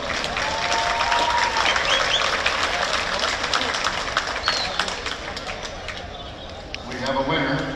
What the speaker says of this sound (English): Can we give both of these boxers a round of applause?